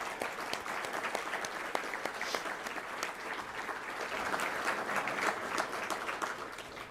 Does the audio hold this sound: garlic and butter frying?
no